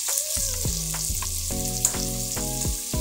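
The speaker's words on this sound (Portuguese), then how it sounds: "Deixa fritar essa cebola aqui um pouquinho." Chopped onion fries with bacon in a pan, a loud, close sizzle with bubbling crackle and repeated short pops throughout. No one speaks.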